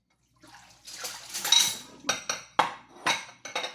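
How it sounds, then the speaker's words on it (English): Dishes being washed under running water: splashing and rinsing followed by a run of sharp, evenly spaced clinks of cups and utensils, close by, with no talking. "I'm going to talk while I do dishes."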